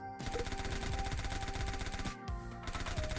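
Rapid automatic gunfire from the video game Ruindog rattles on loud and steady, breaking off briefly before resuming in dense bursts.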